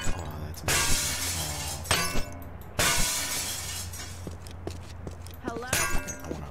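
Glass shatters repeatedly in the video game Postal 4: several loud, bright crashes with tinkling shards spread across the stretch, mixed with game sound and people talking.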